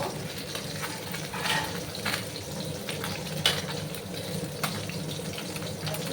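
Pabda fish sizzle steadily in a pan of hot oil. The hiss is continuous and dense, with occasional soft pops and crackles.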